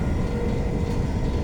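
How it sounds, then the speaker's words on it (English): A Greater Anglia train from Stansted Airport to London Liverpool Street runs at around 120 km/h, giving a loud, steady rumble and roar with no voices. "the Anglia train from Stansted Airport to London Liverpool Street, hurtling along at around 120 kilometers an hour"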